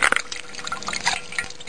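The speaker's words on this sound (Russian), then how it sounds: "Сок еще капает." Pear juice dripping and trickling in quick irregular drops from a juice press, close by, with bright splashy plinks over a soft running-water background.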